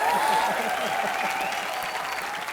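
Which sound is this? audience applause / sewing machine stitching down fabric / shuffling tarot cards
audience applause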